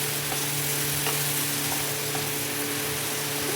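Steady, continuous sizzling of eggplant frying in a covered pan with salt and turmeric, close and even throughout with no talking.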